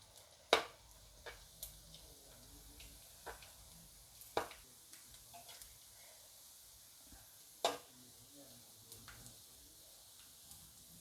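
Hot oil frying food for Thai khao soi in a home kitchen, a faint, quiet sizzle broken by a few sharp pops and crackles spaced several seconds apart.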